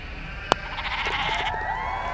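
A sheep bleats in the Walkabout Mini Golf VR game, a wavering cry following a sharp click, moderately loud and nearby with no voices over it.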